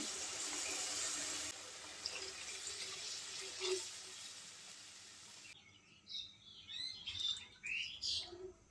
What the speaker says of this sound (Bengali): পানি দিয়ে দেব সেদ্ধ হওয়ার জন্য